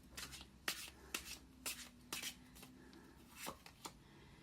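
Tarot cards being shuffled and drawn, a series of soft, quiet riffling and sliding flicks at an irregular rhythm, close by with no talking.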